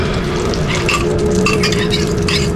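Whisked eggs being stirred and poured into a buttered pan, giving a close, steady sizzle and frying crackle with light scraping and clinking throughout, and no talking.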